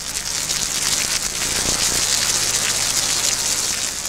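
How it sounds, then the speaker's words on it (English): Steady rain pours in a loud, continuous hiss with a faint low rumble of thunder underneath, constant throughout and close. "The rain came and the thunder."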